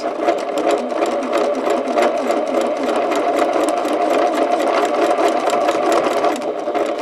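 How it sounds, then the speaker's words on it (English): A sewing machine stitches over a glued seam in a Twinkle Star quilt with New York Beauty blocks. It hums loud and close in a steady, unbroken run, with no voices. "Now I've stitched over that seam"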